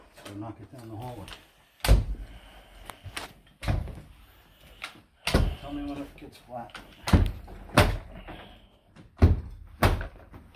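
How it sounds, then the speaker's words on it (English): A carpet is stretched down a hallway with a knee kicker during an installation, giving a series of sharp, thudding kicks spaced about every two seconds, with a person talking between them. "I'll give it a few kicks so I show how it stretches down the hallway"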